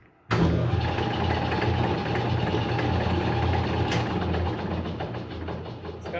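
A Logan lathe motor starts abruptly, then runs loud and steady in reverse with a dense mechanical whir and rattle. It eases slightly toward the end.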